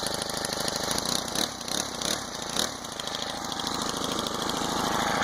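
A small Honda GX25 four-stroke engine on a motorized bicycle runs continuously, with the throttle rising and falling in a few surges before settling into a steady drone, close and fairly loud.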